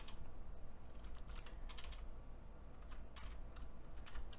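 Code is typed on a computer keyboard for a Unity platformer game, in close, quick bursts of key clicks with short pauses and no talk.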